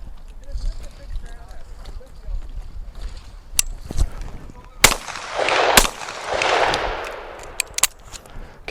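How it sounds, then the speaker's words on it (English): Shotgun blasts during a quail hunt in an open field: several sharp, loud reports spaced a second or so apart, followed by rustling and handling noise outdoors. "Okay, so after you shoot, break the gun open, flip the safety back on"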